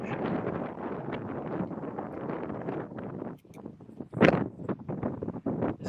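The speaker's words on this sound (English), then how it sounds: "Very windy." Strong gusts buffet a microphone outdoors at a stadium in Perth, a rough, roaring rumble that briefly eases before surging again in louder bursts.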